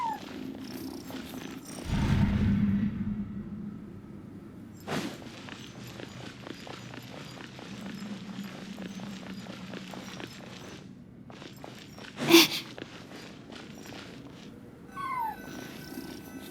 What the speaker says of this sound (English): I followed the cat's cries